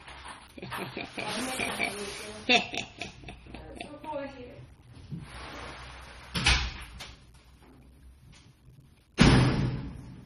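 A door is slammed with two sharp, loud bangs. The second bang, near the end, is the strongest. A person talks quietly indoors between them.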